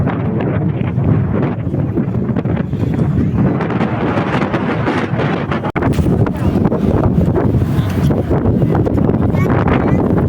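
Strong wind at Mega Dike in Malabon buffets the microphone with a loud, continuous roar that covers the whole stretch.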